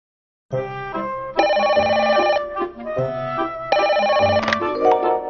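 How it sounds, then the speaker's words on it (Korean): Telephone ringtone plays loudly during a call about a sick parrot, a bright melodic electronic tune in two repeated bursts with a short gap between, with no talking over it. "빈치 형한테 전화해보자"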